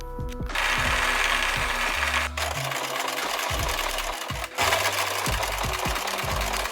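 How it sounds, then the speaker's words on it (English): Sewing machine stitching patchwork denim for Levi's shorts: a loud, fast mechanical whirring run that pauses briefly twice and restarts, close by with no talk. "let's get to sewing"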